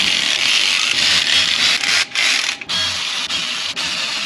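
Ratchet wrench starting bolts, a continuous close rasping clicking of the pawl that runs steadily with a few brief pauses, loud and alone with no talking.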